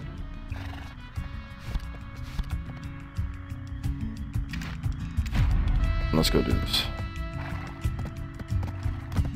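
Horse hooves clip-clop in a video game alongside a whinny, with someone talking over them and game music throughout.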